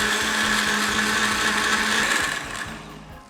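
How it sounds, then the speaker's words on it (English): A blender whirs loudly and steadily as it purées butter chicken sauce into a fine paste, the motor holding a constant drone before winding down near the end. "now we want to blend this into a fine paste or sauce"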